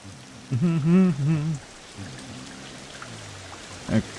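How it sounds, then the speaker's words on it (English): Rain falls in the video game Ancestors: The Humankind as a steady, soft hiss that continues under a voice. "Nice rainy day."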